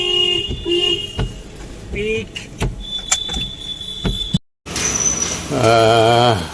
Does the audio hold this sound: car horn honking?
yes